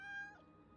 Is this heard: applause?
no